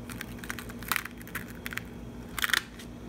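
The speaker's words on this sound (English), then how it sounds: "we're going to hold down the card and then peel" A stencil peeled away from a card while the card is held down, heard as faint crackly tearing bursts, one near the middle and a louder cluster near the end, with no talking.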